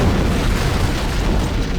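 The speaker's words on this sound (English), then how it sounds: "It must have been one of their boarding parties. I'd guess an antimatter charge." A large antimatter charge detonates aboard a ship in the Halo video game, a sustained, loud rumbling boom that fills the whole stretch with dense low roar and crackle.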